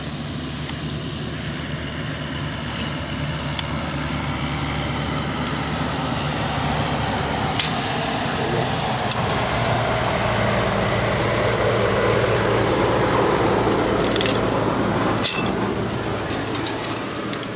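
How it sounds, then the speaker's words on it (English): A tractor engine drones steadily nearby outdoors, a constant low rumbling hum with a few faint clinks of metal over it. "Tractor."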